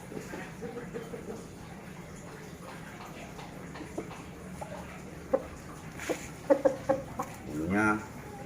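A black-feathered fighting chicken in a backyard coop gives a few short, close clucks near the end, after quiet background noise, while someone talks nearby.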